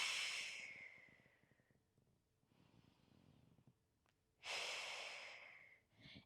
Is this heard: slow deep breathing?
yes